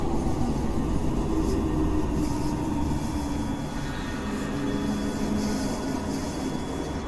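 A Glasgow Subway train in Train Simulator Classic climbs a steep 1 in 21 gradient, producing a steady low rumble and whine of motors and wheels throughout, with no speech.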